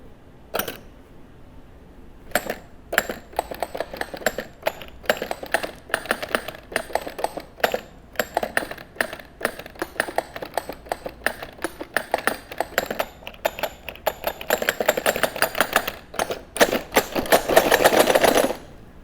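A homemade musical instrument built from a wall of teeth rattles out rapid, irregular clicking taps, dense and close, growing busier and louder toward the end.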